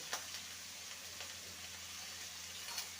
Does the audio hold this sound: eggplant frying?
yes